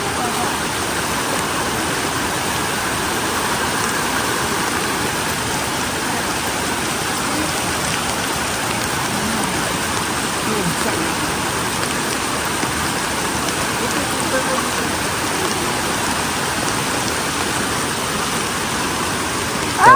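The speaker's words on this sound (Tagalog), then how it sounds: "Lakas po ng ulan." Heavy rain pours down in a mountain setting as a dense, unbroken roar that holds steady throughout, with no voices standing out.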